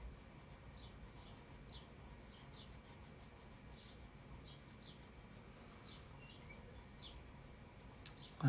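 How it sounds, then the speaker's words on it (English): Small birds chirping faintly outdoors, repeated short tweets over a steady rubbing, scratching noise close by. "Those birds."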